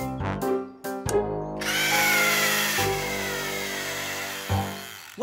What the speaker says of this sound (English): We just have to screw in the last two fins.